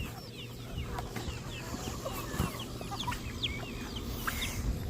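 Several backyard chickens cluck and chatter in short, scattered calls close by, over a faint steady background hum, with occasional louder squawks.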